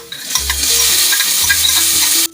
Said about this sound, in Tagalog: To sauté our vegetables, let's now pour our cooking oil.